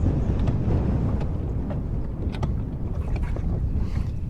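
Strong wind buffeting the microphone on a fishing boat on a rainy day, a constant heavy low roar with scattered faint knocks and splashes, no voices.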